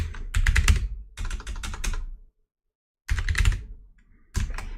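A computer keyboard is hammered hard and on purpose, producing dense bursts of loud, rapid clacking keystrokes separated by short silent pauses, close up with no talking.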